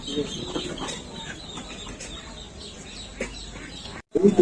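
Chickens cluck and chirp amid a busy, noisy village poultry market background, with a brief pause before louder bustle resumes near the end.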